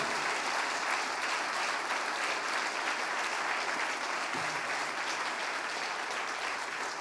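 Sustained applause from a large church congregation, dense and even, filling the whole stretch without pause.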